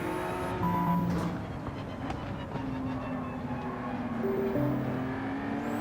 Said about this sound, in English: The gear shifts sound weird too.